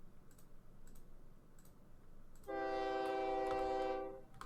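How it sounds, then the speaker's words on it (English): A metro underground train in the OpenTTD game sounds a steady, tonal horn-like hum for about a second and a half, with soft keyboard typing clicking in the background. "Oh, I forgot actually I've got an underground train."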